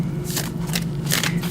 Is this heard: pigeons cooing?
no